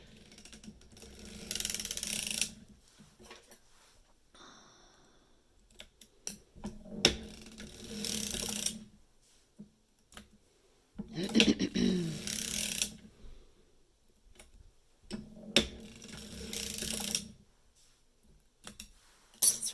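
Ratcheting clicks and mechanical clatter as the forks are raised on a sock knitting machine, in bursts separated by quiet gaps, close by with a lycra stand setup.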